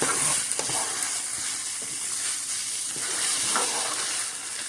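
Ground meat mixture for shepherd's pie frying steadily in a pan, a continuous close sizzle with occasional light stirring scrapes and no voices.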